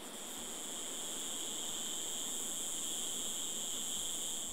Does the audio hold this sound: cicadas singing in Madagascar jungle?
yes